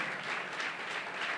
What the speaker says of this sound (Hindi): ताली बजा सकते हो प्रभु के लिए।